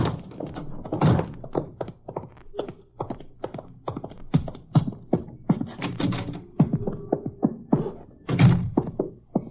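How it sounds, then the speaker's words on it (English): Heavy, irregular thumps and creaks of footsteps climbing wooden stairs, several people stepping close by without talking. "Ooh, noisy steps."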